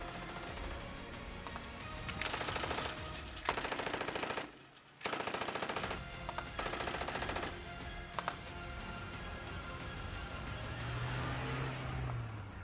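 Bursts of automatic gunfire during violent anti-government protests in Mashhad, Iran, rattle in several dense volleys of a second or so each, separated by brief pauses, over a continuous background rumble with no voices.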